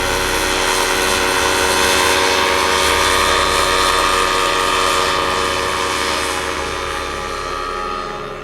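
A motor trike aircraft flies past as a loud, droning engine buzz with steady tonal harmonics, swelling and then gradually fading as it moves away, with no talk over it.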